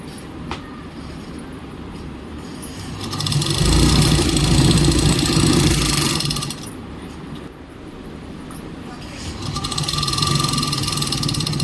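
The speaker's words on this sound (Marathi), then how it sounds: "साईडने काढून व्यवस्थित फोल्ड करून शिलाई मारून घेतली" A sewing machine stitches the folded edge of a door curtain in two sustained motor-driven runs, each a few seconds long, a close mechanical whir rising and stopping with quieter room tone between.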